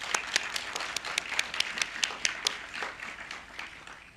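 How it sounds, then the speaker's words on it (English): Applause from a crowd at a fall university graduation celebration outdoors, a steady patter of many hands clapping with sharp individual claps, fading gradually toward the end. "Please join me in giving Charlie another round of applause"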